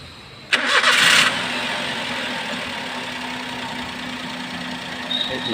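A car engine cranks briefly and catches, then settles into a steady idle hum that continues to the end.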